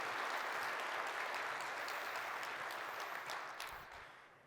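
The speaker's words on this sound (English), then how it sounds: "So let's give them a big round of applause." Conference audience at a corporate opening session applauds in a dense, sustained wash of clapping that gradually fades toward the end.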